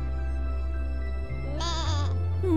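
A goat or lamb bleats once in the video game Scribblenauts Unlimited, a brief wavering cry heard clearly over steady game music.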